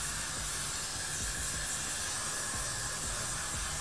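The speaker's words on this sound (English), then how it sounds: "I use the Got2B glued blasting free spray, and I really just spray" Got2B Glued Blasting Freeze hairspray is sprayed over hair while a wig is being fitted, a continuous close hiss that holds steady for about four seconds with no talking.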